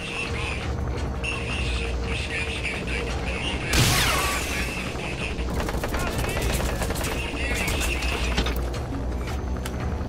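Gunfire in the Metal Gear video game: a sudden sharp blast stands out over a steady, busy game soundscape, followed later by a run of rapid crackling shots.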